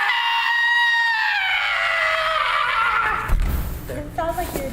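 A person gives a loud, sustained, high-pitched scream that wavers and slowly falls in pitch, then breaks off into a burst of laughter and chatter from people nearby.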